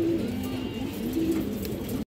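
Large female pigeons of a racing, long-flying breed cooing steadily nearby, low rounded coos repeating throughout with a continuous murmur of other birds in the background.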